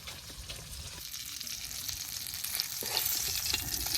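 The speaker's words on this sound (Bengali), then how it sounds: "মস্ত মস্তে মাছ ভাজি।" Fish frying in hot oil in a village kitchen, a dense, bright, crackling hiss that holds steady and swells slightly louder toward the end, close up, with no voices.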